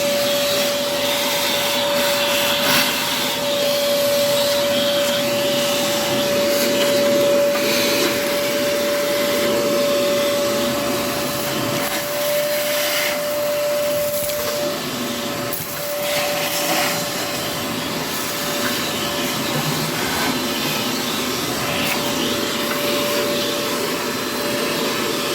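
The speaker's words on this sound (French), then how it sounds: "Et je vais aspirer avec l'aspirateur." A vacuum cleaner runs continuously inside a stove, sucking out the interior with a loud, steady whine and a high whistling tone that holds for the whole stretch. Small shifts in the airflow come as the nozzle moves.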